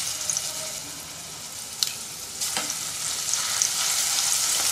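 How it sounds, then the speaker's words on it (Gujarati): Garlic chutney frying in hot oil in a kadai, a steady bright sizzle with a couple of faint clinks, continuous and close. "હવે આપણું તેલ ગરમ થઈ ગયું છે, તેમાં આપણે લસણની ચટણી ઉમેરીશું."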